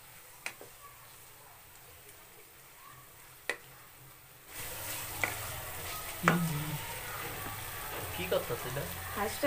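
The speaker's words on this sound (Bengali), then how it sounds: "মশলাটাতে হালকা একটু পানি দিয়ে আমি সুন্দর মতো কষিয়ে নেব।" Spice masala for a country-style duck curry sizzles and fries in a pan as it is stirred, with a few sharp ticks early on. The frying quickly grows into a louder, steady crackle.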